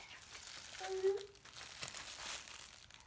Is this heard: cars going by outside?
no